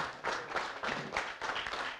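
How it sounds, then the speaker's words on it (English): Audience applause at a PSRA security training graduation ceremony at Treasure Beach Sports Park, honoring Dr. Andrew Spencer: a steady, dense wash of many hands clapping, rising in waves and holding at moderate loudness with no voices on top. "Another round of applause for Dr. Andrew Spencer."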